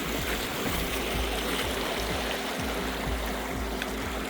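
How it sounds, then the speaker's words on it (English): Footsteps splash through wet, boggy peat and heather on a winter hill walk near Fort William in the Scottish Highlands, heard as a steady rhythm of soft, close squelching thuds under a constant wash of broadband noise. "Lots of splashing as you're walking along."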